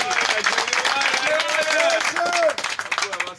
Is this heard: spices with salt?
no